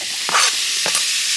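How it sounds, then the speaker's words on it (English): Cut-up bacon frying in a pan for an Easter dinner, giving a steady, close, high-pitched sizzle and crackle with two brief louder bursts of spattering, no talking. "Let that sizzle."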